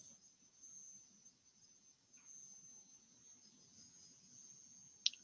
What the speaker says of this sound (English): So if you're hearing high-pitched little sounds, those are little crickets and little bugs